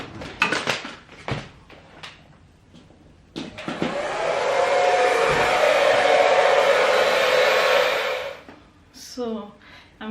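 A hand-held hair dryer switches on after several knocks and handling bumps, blowing as a loud steady whoosh for about four seconds before cutting off, followed by more light rustling.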